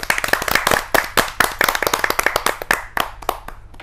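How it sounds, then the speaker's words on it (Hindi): An audience at a Hindi poets' gathering claps to welcome a poet, with sharp individual hand claps in a quick, uneven patter that thins out toward the end. "जोरदार तालियों से उनका अभिनंदन करते हैं।"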